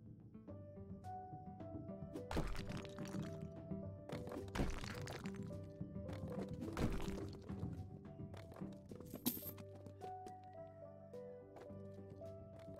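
Walls being demolished in House Flipper, with repeated crunching, cracking hits over a steady bed of background music.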